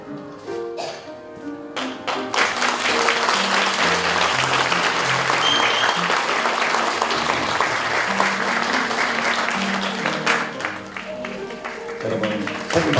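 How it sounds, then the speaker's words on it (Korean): An audience at a 2016 retirement and inauguration thanksgiving service for an orphanage director claps loudly and steadily for about thirteen seconds, with music playing underneath and the clapping swelling early then holding strong. "여러분 큰 박수로"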